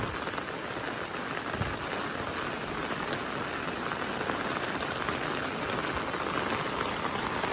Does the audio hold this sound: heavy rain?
yes